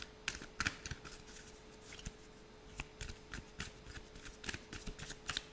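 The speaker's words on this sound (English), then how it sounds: "Let's get some more cards out." Oracle cards are shuffled and drawn by hand close up, giving quiet, crisp riffling and flicking taps in irregular bursts throughout, with no talk.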